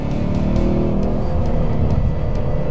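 A 2015 Ford Mustang GT engine roars steadily at high revs, deep and loud with a constant rumbling drone throughout, no voices.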